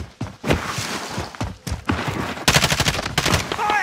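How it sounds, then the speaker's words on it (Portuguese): Rapid bursts of automatic gunfire from an enemy in the shooter game Call of Duty: Modern Warfare crack out close and loud in quick repeated volleys, mixed with thuds and footsteps, with no talk over them. "Oi, está outro a disparar para mim, meu."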